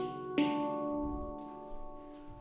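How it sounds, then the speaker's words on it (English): A handpan plays the doorbell ding-dong melody: one struck metallic note blooms into a long, warm ringing sustain, with a softer second note entering as the first fades, heard alone and close. "Handpans."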